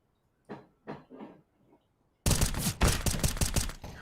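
Gunfire in the game CS:GO, where a few isolated soft thuds give way to a sudden loud burst of rapid, repeated shots that continues to the end.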